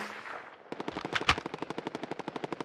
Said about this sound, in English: I just got shot from behind.